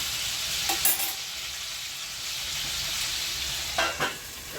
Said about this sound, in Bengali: আমি আবার গ্যাসটা লো করে আলুগুলোকে ভাজতে ভাজতে দিলাম